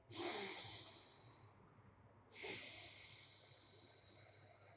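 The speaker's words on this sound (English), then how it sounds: "Feel free to continue with your deep breaths into your belly." Two long, slow, deep breaths, each a faint airy rush trailing off, taken during a jiu-jitsu hip mobility exercise in a quiet room.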